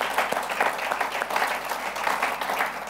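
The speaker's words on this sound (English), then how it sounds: "Let's give her a round of applause for that." Audience applause from a crowd at a women's business event, steady dense clapping filling the whole stretch at moderate loudness with no voices over it.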